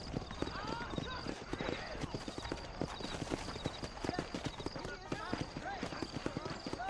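Horse hooves clip-clop steadily in the Red Dead Redemption game, a continuous close rhythmic patter with a brief whinny, while someone talks over it.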